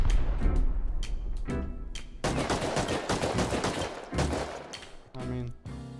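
Bursts of AK rifle fire in the survival game Rust crackle loudly in rapid repeated volleys, broken by short pauses, with dense automatic shots filling the middle stretch.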